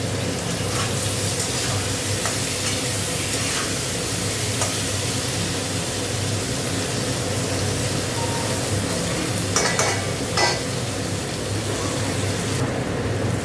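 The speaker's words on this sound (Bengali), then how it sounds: "আলু পেঁয়াজ একসাথে ভেজে নেবো।" Potatoes and onions fry together in a pan with a steady, close sizzle throughout, broken by occasional scrapes and clinks of stirring.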